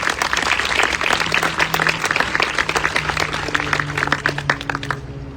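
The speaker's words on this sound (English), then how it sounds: "Let's give them a round of applause." Audience applause at a 9/11 remembrance and first responder ceremony for a pipes and drums band, dense steady clapping from a crowd with a faint sustained droning tone underneath, tapering slightly near the end.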